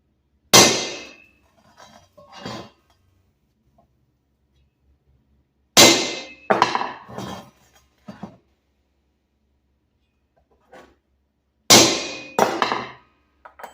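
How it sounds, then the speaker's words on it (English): Three sharp metallic hammer blows on a center punch against a steel tank, each followed by a few quieter taps, spaced several seconds apart with silence between, close and loud in a workshop. "So I'm going to use a center punch."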